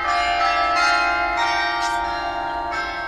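Bells ring out after a player sacrifice on an altar in the video game Spelunky, a bright, sustained chime with overlapping strikes that swells and repeats steadily, loud and close, with no talking.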